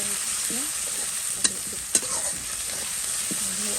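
Onions frying in a pan with a steady sizzle throughout, broken by a couple of sharp clicks of a utensil and soft stirring scrapes, close and continuous.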